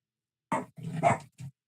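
A dog barks three times indoors, close and sharp, with the middle bark longer and louder, set against a silent background.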